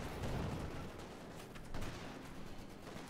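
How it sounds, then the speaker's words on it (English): Gunfire in the video game Company of Heroes 2, a dense, loud rumble of battle shots and explosions throughout, with a sniper rifle opening up among the bursts, no talk. "Sniper opening up here."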